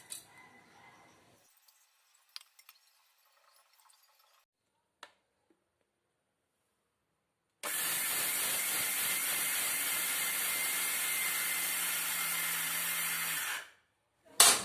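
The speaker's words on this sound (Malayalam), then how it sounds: "അരി ഒരു മിക്സിയുടെ ജാറിലിട്ട് ഒന്ന് ഞുറുക്കിയെടുക്കാം" A mixer grinder grinding soaked rice in its jar: a few faint handling clicks in near silence, then a loud, steady whirring grind for about six seconds that cuts off abruptly.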